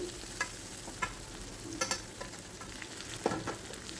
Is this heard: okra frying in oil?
yes